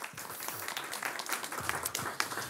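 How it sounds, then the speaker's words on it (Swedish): Audience applause at a public panel event in Stockholm about the energy crisis as a guest is welcomed on stage, a brief soft patter of clapping from a modest crowd, fairly faint. "Ja, vad trevligt med en applåd också."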